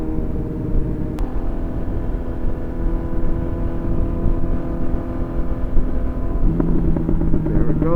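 A Honda CB1000R's engine and exhaust drone steadily while riding, a constant loud rumble with a brief sharp blip early on and a rising note near the end as the revs change.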